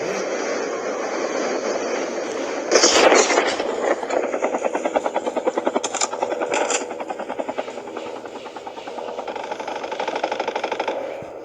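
A helicopter's rotor thumps loudly and steadily throughout in the mobile video game Call of Duty Mobile battle royale, with a brief harsh burst early on and a pulsing chop that fades slightly toward the end.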